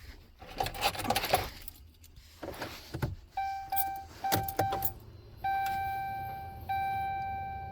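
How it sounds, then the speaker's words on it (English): Key turned in the ignition of a 2012 Ram 1500 Tradesman pickup: faint key jingle and clicks, then a sequence of steady electronic chimes repeating in short tones, fairly quiet and close, with no speech. "turn the key in the start position, but don't start the vehicle"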